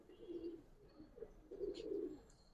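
Pigeons cooing in a loft, soft repeated low coos in two rolling phrases, fairly faint and close, with no talking over them.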